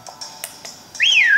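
A rising and falling whistled tune from the Pokémon Sword game, loud and clear, coming in near the end after a few short faint clicks.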